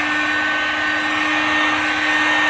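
A heat gun warming a car's wheel arch on a Honda Civic gives off a steady, loud, continuous blowing whir with a constant hum, unbroken for the whole stretch and with no voices over it.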